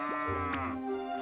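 A large cow in the farming game Story of Seasons: Grand Bazaar gives a short, close, clear moo with a rising and bending tone, heard alone against a soft game background.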